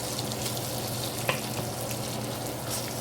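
Sausage browning in a frying pan gives a continuous close sizzle with a faint scrape partway through, steady and unbroken with no voices.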